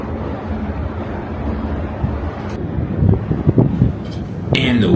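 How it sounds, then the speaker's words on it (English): Strong wind buffets the microphone at a gondola skyliner in Idaho Springs, a steady low roar that swells into louder gusts toward the end, with a brief high rattle near the close. "you hit moments like this when the wind suddenly picks up"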